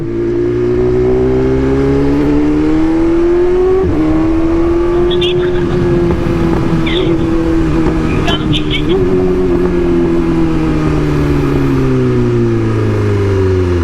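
A big bike motorcycle engine drones steadily and loud while riding, with slight pitch rises as it speeds up, as a rider and passenger talk over it.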